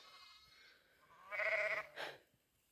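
A ewe on pasture during lambing season bleats for her lambs. Two loud, close calls come in quick succession: a long wavering bleat, then a shorter one, over a quiet background.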